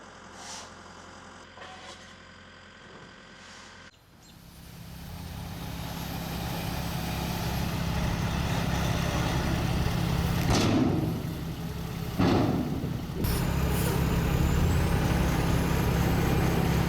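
A gravel and lumber delivery truck with air brakes rumbles close by, a steady loud engine drone with a couple of sharp hissing bursts partway through.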